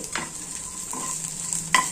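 Red chillies hit hot oil in a pan with onion already browned and garlic, giving a loud, close, continuous sizzle with a few scraping stirs of a spoon.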